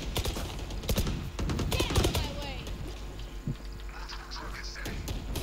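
Video game gunfire, rapid bursts of automatic shots and sharp single cracks mixed with other game effects, with excited talk over the top.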